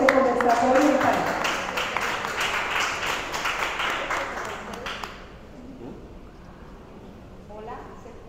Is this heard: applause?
yes